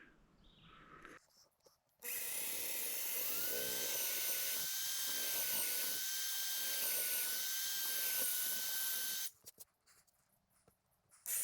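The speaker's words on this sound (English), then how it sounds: "Let's drill down here." A power drill bores into wood while building a media stand, a loud sustained motor whine with a steady pitch that spins up, runs for about seven seconds, then winds down, with a faint quiet room before and after.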